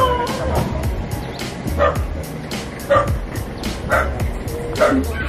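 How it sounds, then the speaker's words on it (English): Dog barking in short yips and bow-wows, several separate barks spaced about a second apart at moderate distance, with faint background voices and a passing car underneath. "There's a dog."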